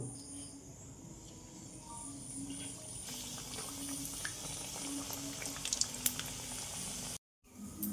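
Braided pitha frying in hot oil, a steady low bubbling sizzle that grows louder and crackles partway through, then cuts out briefly near the end.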